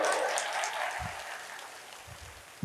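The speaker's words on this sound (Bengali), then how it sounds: "ওর জন্য একটা করতালি দাও জোরে" A lecture audience claps loudly for an attendee, then the applause thins and tapers off over a couple of seconds with a few low thumps near the end.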